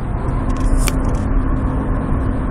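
Subaru BRZ engine cruising in sixth gear, a steady low droning hum with road rumble, loud and constant throughout with no talk.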